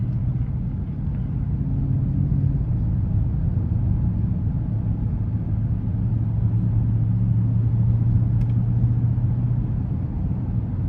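Inside a 2021 Mercedes-Benz GLS 63 AMG with a 4.0-litre twin-turbo engine in Sport Plus mode, the engine holds a steady, low, tame rumble under light throttle, with continuous road and cabin drone and no talking.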